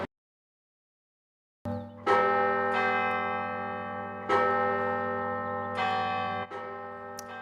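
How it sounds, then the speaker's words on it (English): After a brief silence, the large bells of the University of Notre Dame ring out loudly in celebration of a new pope, several strikes overlapping with long, resonant humming decays. "The bells at the University of Notre Dame ringing in celebration of the new pope."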